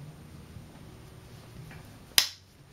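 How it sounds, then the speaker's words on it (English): A single sharp click of small magnets snapping together, quiet background before it and a short ringing tail after. "Do you hear my magnets clap together?"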